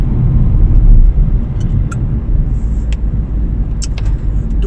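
Car driving on a dark road at night, a steady loud engine and road rumble from inside the vehicle with a few faint clicks and ticks, no talk.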